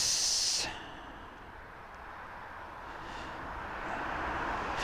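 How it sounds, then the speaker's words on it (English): An aircraft on approach to land at East Midlands Airport gives a steady, distant broadband engine roar that slowly swells in loudness, heard alone without talk. "We've got an aircraft bobbing in."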